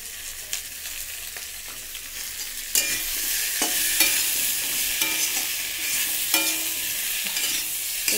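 Potatoes sautéing in a pan with ginger paste, salt and turmeric, a steady sizzle that grows louder partway through, broken by repeated scrapes and knocks of a stirring spoon.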